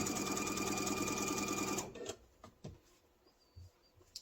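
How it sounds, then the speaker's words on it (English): A sewing machine runs steadily for nearly two seconds, stitching across an apron near its strap, then stops abruptly, leaving a few faint fabric handling clicks and rustles close by. "I'm going to sew over to the next strap."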